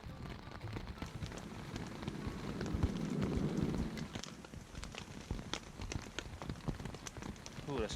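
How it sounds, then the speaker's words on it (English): Heavy rain pattering on a surface at a wilderness camp on the trackless Great Northern Peninsula, a steady close hiss with scattered sharp drop hits, swelling briefly to a louder rush in the middle. "Getting everything drenched out in heavy rain is a hassle anyways."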